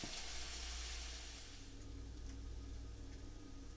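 Cabbage frying in fat drippings in a pan, a steady close-up sizzle with soft crackle that holds evenly throughout, no voices.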